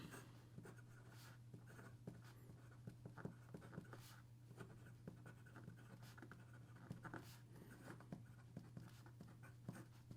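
A broad-nib fountain pen writing with Diamine ink on paper, giving a soft, continuous scratch broken by quick strokes and lifts in an uneven rhythm, close and quiet over a low steady hum.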